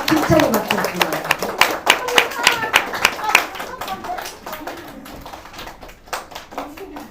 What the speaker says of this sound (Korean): 힘차게 박수 주세요